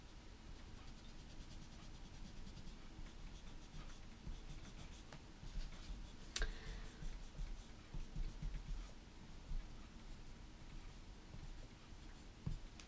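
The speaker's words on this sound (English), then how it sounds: "let's go back and erase out those construction lines." A pencil eraser rubs out pencil construction lines on a daisy drawing, making a soft, steady, close scratching and rubbing texture that continues throughout with no talk.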